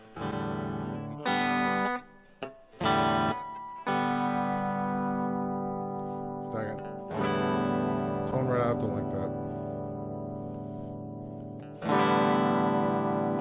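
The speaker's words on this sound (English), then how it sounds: "I want a nice clean tone, and I got a little bit of reverb." A clean electric guitar played through the virtual amp of a TASCAM DP-24/32 recorder rings out in sustained chords with a soft reverb tail, each strum fading slowly before the next.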